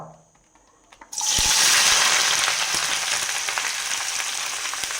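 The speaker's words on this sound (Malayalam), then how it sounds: "ചൂടായ എണ്ണയിലേക്ക് നമുക്ക് ഇഞ്ചി വെളുത്തുള്ളി തക്കാളി പച്ചമുളക് ചെറിയ ഉള്ളി ഇതെല്ലാം ഇട്ടിട്ട് ഒന്ന് വഴറ്റിയെടുക്കാം" Ginger, garlic, tomato, green chili and shallots hit hot oil after a quiet second, bursting into a loud, close sizzle that settles into a steady, slightly softer crackling hiss.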